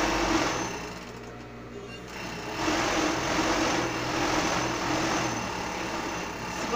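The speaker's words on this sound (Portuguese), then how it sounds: "Vou costurar." Electric sewing machine stitching a ruffle of organza fabric, a steady close mechanical whir that runs in continuous stretches with brief slowdowns between them.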